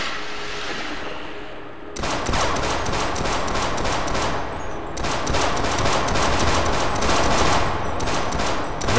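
Rapid automatic gunfire in the video game Half-Life Sven Co-op, loud continuous bursts of rattling shots after a quiet start, with a brief pause midway before the firing resumes.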